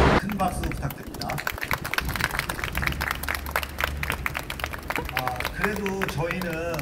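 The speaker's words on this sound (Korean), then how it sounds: "큰 박수 부탁드립니다" Rally crowd at a Korean New Zealanders demonstration in New Zealand, applauding and cheering in a dense, continuous wash of clapping that lasts throughout, with a voice over a loudspeaker briefly rising near the end.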